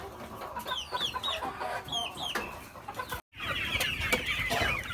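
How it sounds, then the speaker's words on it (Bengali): Hens and roosters on a goat and poultry farm cluck repeatedly in rising, wavering calls, close and fairly loud, continuing after a brief cut. "মোরগ মুরগি সবই আছে।"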